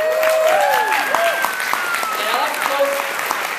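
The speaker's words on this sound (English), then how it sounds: "Let's give you guys a round of applause." An event audience claps through a short round of applause while someone talks over it, his voice prominent above the steady clapping.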